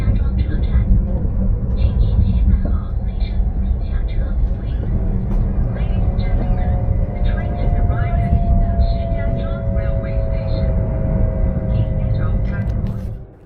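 Chinese high-speed sleeper train slowing down for a night stop, a steady loud rumble with a faint whining tone gliding downward, heard from inside the carriage with voices underneath.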